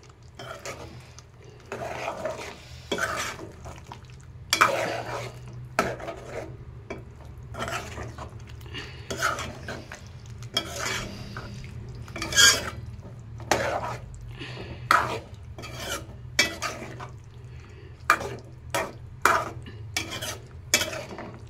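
Drumstick, potato, peas and tomato curry stirred in a pot after coriander powder goes in: a steady run of scraping, rasping strokes repeating for about twenty seconds over a low background hum.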